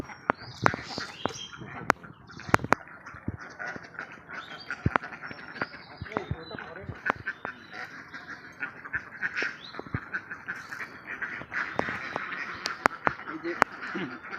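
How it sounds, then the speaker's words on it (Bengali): Many ducks quacking close by in a noisy flock on a duck farm, overlapping calls with sharp clicks and knocks, while a person talks now and then. "এটা হচ্ছে আমাদের হাঁসের খামার"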